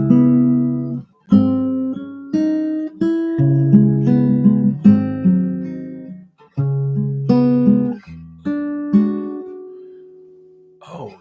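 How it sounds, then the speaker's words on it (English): Waterloo WLS Deluxe acoustic guitar picked close to a microphone with pickup blended in, playing a series of ringing chords and single notes, each strummed attack decaying before the next, ending on a sustained tone. "I'm glad this guitar sounds good."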